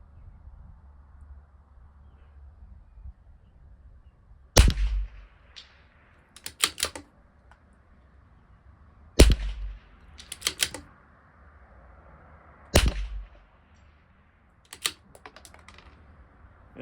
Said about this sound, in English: So now I'll shoot the one that doesn't have any marks on it.